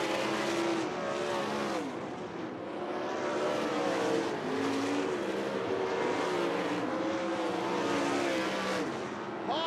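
ASCS sprint cars race at Tri-State Speedway in a feature event, a loud, continuous engine howl with rising and falling pitch as cars sweep past in waves around the track.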